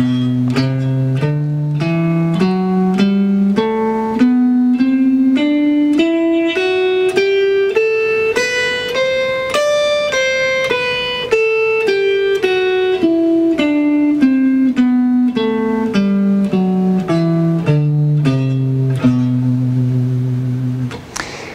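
A guitar plays the B Phrygian mode one note at a time, climbing steadily upward and then descending again at an even pace, clear and close with no voices.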